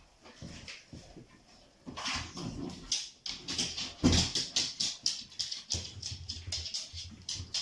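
A dog noisily works an enrichment treat toy, rolling it with nose and paw, giving a run of rhythmic clattering knocks and scrapes that grow busier and louder, with faint dog whines mixed in near the start.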